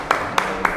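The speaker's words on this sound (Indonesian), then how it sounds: "Tepuk tangan." Three sharp, spaced hand claps at a classroom prize announcement, each a brief crisp snap close by, evenly separated.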